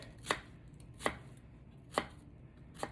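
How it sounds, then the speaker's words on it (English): A knife chops down through an onion on a cutting board in four crisp, evenly spaced thuds, close and clear, with no talking. "That is the easiest way to chop an onion."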